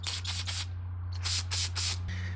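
Short hissing bursts of carburetor cleaner spray on a Honda mower carburetor, several quick sprays with a brief pause, over a steady low hum.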